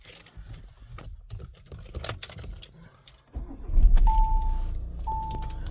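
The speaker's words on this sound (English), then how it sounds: "the little warning you can hear there is on our onboard computer, just to remind us that our roof is still open" Volkswagen California Ocean camper van with the roof still open: two short electronic warning beeps from the onboard computer sound over a running engine and some clicking and rustling inside the cabin.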